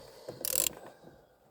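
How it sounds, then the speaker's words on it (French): A ratchet wrench loosens the steering wheel bolt on a Renault Mégane 2, giving a brief, quiet burst of rapid clicking up close, with faint mechanical rattles around it. "Donc voilà, on dévisse."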